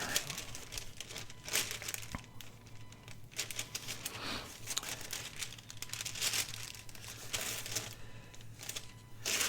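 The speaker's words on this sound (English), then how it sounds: "Let's see if we just put a little bit of deli paper on there." Deli paper crinkles and rustles close by as it is handled and pressed onto a scrapbook collage, a steady stream of crisp crackles and soft tearing-like scratches under a faint low hum, with no talking.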